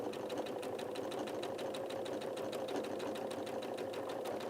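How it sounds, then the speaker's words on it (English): Domestic sewing machine stitching with a twin needle on fabric for a doily quilt, a steady rapid mechanical whir with fast regular needle ticks, close and continuous throughout. "And simply start sewing."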